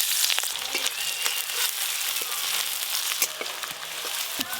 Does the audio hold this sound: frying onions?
yes